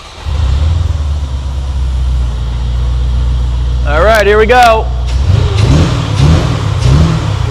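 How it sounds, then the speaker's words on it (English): A Corvette left uncleaned for 25 years, started up and revved a couple of times: a deep, close engine rumble that swells into short revs, with someone briefly speaking in the middle. "I think I'm gonna turn on and give it a couple revs"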